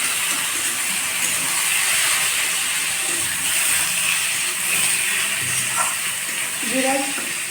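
Onions frying in a pan for aloo bharta give off a steady, even sizzling hiss that runs through the whole stretch at a moderate level, with faint voices in the background.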